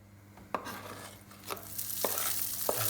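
Finely chopped kokoreç hits a hot pan and fries with a rising, continuous sizzle, with several sharp knocks and scrapes of a utensil stirring it and no talking.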